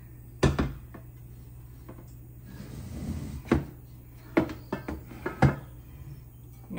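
A sauté pan set into a pot organizer rack while new cookware is put away, giving a series of sharp knocks and clunks, some single and some in quick pairs, close by over a low steady hum.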